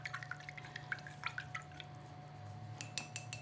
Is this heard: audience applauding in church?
no